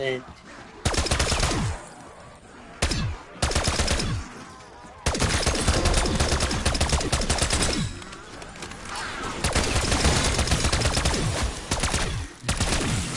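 Rapid gunfire in Call of Duty: Black Ops 6, loud fast bursts of shots in several long strings separated by short gaps, with a voice talking between them.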